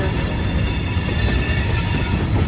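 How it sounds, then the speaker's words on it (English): A Hamilton Northwestern freight train hauling empty covered hopper cars rolls past close by, giving a steady, loud rumble of wheels on rail with occasional wheel squeal throughout, and no voices. "Here comes the train, guys."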